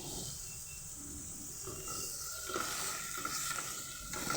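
Bread chicken snack sizzles and fries in a pan while being gently stirred, a soft steady hiss with light scraping movements, faint and close.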